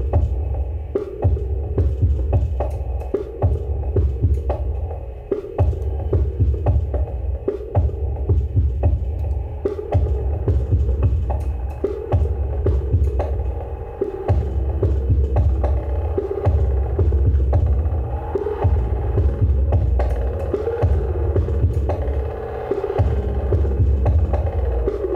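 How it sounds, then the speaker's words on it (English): A drum machine plays in a room, a steady deep throbbing kick-like pulse repeating under a constant hum and buzzy midrange tones, running loud and continuous throughout. "it's just fun to show the drum machine doing something"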